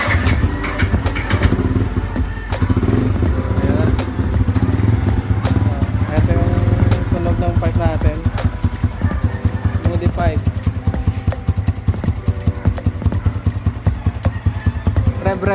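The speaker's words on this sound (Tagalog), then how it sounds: "So soundcheck natin yung pipe." A Yamaha Sniper 150 motorcycle with a new aftermarket exhaust pipe runs loud and close, its engine putting out a continuous throaty rumble with pulsing revs, while people talk over it.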